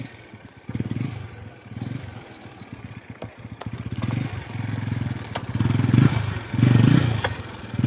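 A motorbike rides ahead of a cyclist on a cold outdoor road, its engine rumbling in uneven surges that rise and fall, with rattling clatter over the top.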